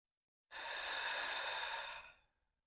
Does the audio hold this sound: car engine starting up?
no